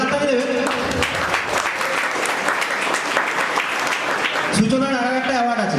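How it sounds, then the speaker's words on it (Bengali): Loud, dense applause from an audience at a school Teachers' Day celebration, continuous for several seconds, with a voice speaking over the clapping at the start and again near the end. "জোরে হাততালি দেবে।"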